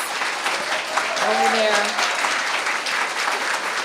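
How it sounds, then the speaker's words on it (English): An audience at an awards ceremony claps steadily throughout, a dense wash of applause with a brief spoken voice in the middle. "Please give them a large round of applause."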